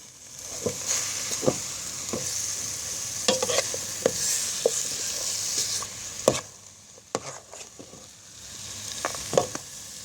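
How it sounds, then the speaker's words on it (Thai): Vegetables and pork stir-fry over low heat, with a continuous gentle sizzle and repeated sharp scrapes and taps of a utensil against the pan, close and without talk. "ผัดไฟอ่อนไปก่อนครับ"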